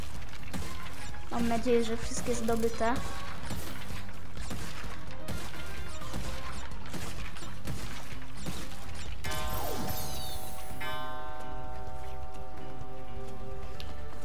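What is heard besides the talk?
crates being smashed in video game Crash Bandicoot 4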